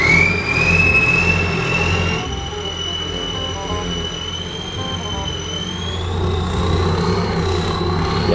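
Combine harvester engine in Farming Simulator 25, a steady loud mechanical drone with a rising turbine-like whine, running continuously and alone throughout.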